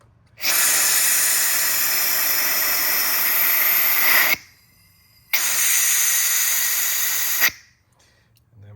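Compressed air driving a venturi vacuum tool on a Mercedes GLC43 M276 intercooler cooling system, a loud steady hiss in two long bursts of about four and two seconds with a brief pause between, then silence.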